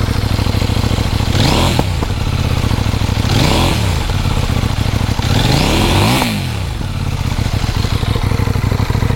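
A CFMOTO 800 NK Advanced motorcycle revs loudly three times in succession, each rise in engine pitch falling away into crackling, popping exhaust, with a steady rumbling idle underneath and no talk.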